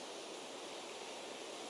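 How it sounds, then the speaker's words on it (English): Loud, steady hiss of a high-pressure washer jet spraying water while cleaning a fire station in PowerWash Simulator, a continuous broadband rush with no breaks and no talking. "Who knew water could be so loud?"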